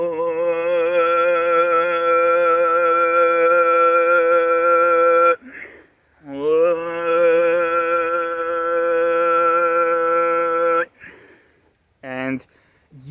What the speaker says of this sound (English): So the Tuvan one would sound like this, starting from my normal voice.